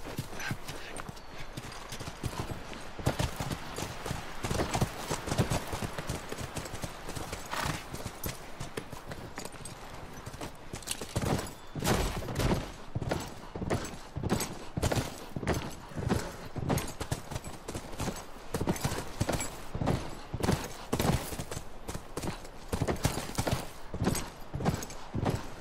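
Horse hooves clip-clop steadily in The Last of Us Remastered video game, a continuous rhythmic run of close, distinct hoof strikes lasting the whole stretch with no voices over it.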